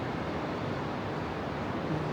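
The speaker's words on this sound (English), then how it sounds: "The sound you hear is the James River." The James River flows near Hollywood Cemetery in Richmond, Virginia, heard as a steady, even rushing wash of water with no breaks, fairly soft and spread out.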